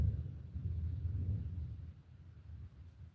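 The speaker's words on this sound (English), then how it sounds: "That's a big roll of thunder." A low, distant roll of thunder, a soft rumbling swell that rises and fades over a few seconds, faint and alone in an otherwise quiet indoor room.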